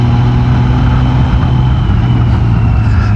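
A car engine working through the gears on a very crooked, winding road, a steady loud drone with deep low rumble that holds constant through a shift, with no voices.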